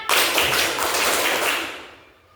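A classroom of students claps in a quick rhythmic burst, dense broadband hand claps filling the room for about two seconds before fading out, loud and close with no talk over them.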